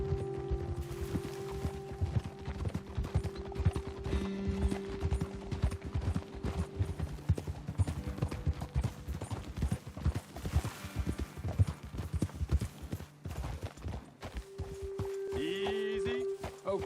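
Horses' hooves clip-clop in a steady, busy rhythm as riders move along in the video game Red Dead Redemption 2, the close clattering steps continuing under tonal background sounds and muffled voices.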